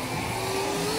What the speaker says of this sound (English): So there is portable